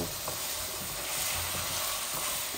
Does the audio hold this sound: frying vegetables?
yes